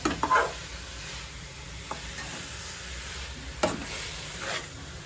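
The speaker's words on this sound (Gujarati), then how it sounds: "સરસ રીતે આને ઘીમાં ચડવા દઈશું થોડી વાર। 2-3 મિનિટ શેકાવા દેવાની છે।" Beetroot roasting in ghee in a pan, giving a soft, steady sizzle punctuated by a few light scrapes and knocks of a stirring utensil.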